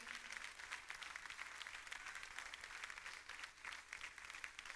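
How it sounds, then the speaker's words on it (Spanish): Church congregation clapping in sustained applause during a sermon, a fairly distant but continuous wash of hand claps filling the room, with no voices standing out. "Vamos a darle un aplauso al Rey si usted lo cree."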